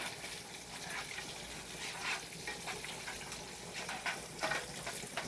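Bacon cooks down in a large pan, giving a faint, steady sizzle and crackle with soft irregular pops and no one talking.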